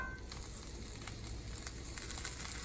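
Shrimp frying in olive oil in a hot cast iron skillet, a soft steady sizzle with faint crackling pops, quiet and continuous throughout.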